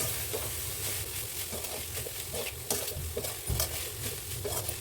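Mutton being stir-fried with spice powder in a pan, a steady close sizzle under irregular scraping and clinking of a spoon against the vessel, with no voices.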